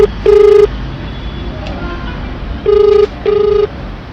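A telephone ringing over speakerphone, three electronic ring bursts with short gaps between them, loud and close, over a quiet room with low background noise.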